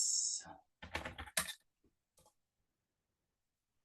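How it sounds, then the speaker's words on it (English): Place names are typed on a computer keyboard in a few quick bursts of clicking keystrokes, then a lone tap or two before the room falls quiet. "You can do it by typing in place names."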